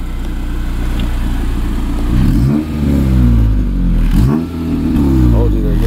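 A Honda Civic Si with a K-tuned exhaust revs hard in a few raspy, rising bursts between steady idle, loud and close, while people react and talk over it.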